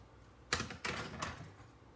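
Three sharp cuts from a paper trimmer slicing the angled edges of a paper card, each a crisp close swipe in a quiet room with no talk.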